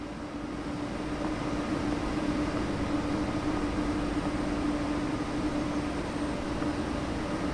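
A train in Train Sim World 6 sits ready to leave on a Leipzig–Dresden route, giving a steady, unbroken rumble and hum with a faint constant tone running throughout, with no voices.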